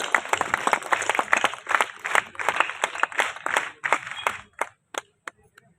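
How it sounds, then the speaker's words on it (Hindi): A crowd claps for small children at a disaster-control day event on Fateh Sagar lake, a dense burst of applause that thins out into a few scattered, isolated claps at the end. "एक बार तालियां हो जाए बच्चों के लिए"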